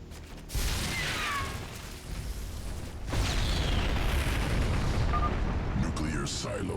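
Nuclear silos exploding in the StarCraft 2 campaign mission Planetfall, two rumbling bursts with hissing debris over a steady battle din.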